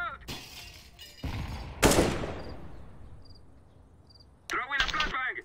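A grenade thrown and detonating in CS:GO: a few quick sharp cracks, then a loud blast around the middle that rings off into a long fading tail, with a burst of brief radio-style voice chatter at the end.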